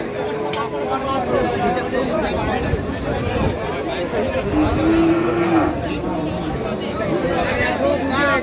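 Cattle at a rural cow market where cows, calves and bulls are sold give loud lowing moos among a busy crowd. Chatter and nearby voices run underneath throughout.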